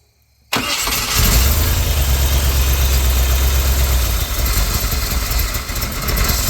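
A 388 stroker V8 in a solid-axle-swapped S10 Blazer cranks and catches abruptly, then runs as a loud, rough, rumbling idle that wavers slightly and holds steady without talk.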